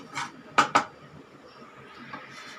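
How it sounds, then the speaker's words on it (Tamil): Metal cooking pot set down on a stove, with two quick sharp clanks close by after a lighter knock, then quiet kitchen rustle. "இந்த பாத்திரத்தை போட்டுக்கிறேன் நான் இப்போ இதில்"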